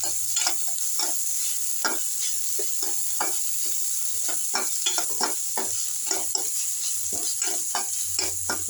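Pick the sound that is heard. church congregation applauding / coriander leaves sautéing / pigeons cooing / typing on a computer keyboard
coriander leaves sautéing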